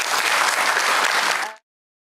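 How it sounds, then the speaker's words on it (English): A television debate studio audience applauds loudly, dense steady clapping that cuts off abruptly into silence. "He got a round of applause at the end."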